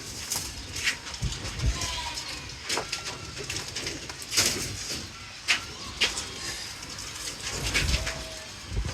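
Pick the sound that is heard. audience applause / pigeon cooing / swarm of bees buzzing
pigeon cooing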